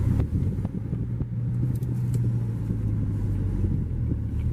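Low, steady engine rumble from a 2013 Mazdaspeed 3 with a six-speed manual as it pulls away on the clutch on an incline, heard from inside the car with a few faint clicks and no talking.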